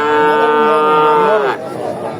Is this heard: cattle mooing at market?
yes